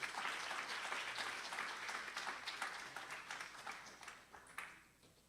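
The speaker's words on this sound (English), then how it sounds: "so give them a round of applause," A room of people at a Sunday satsang applauds a group of children after their performance, the steady clapping fairly soft and distant, thinning and tapering off toward the end.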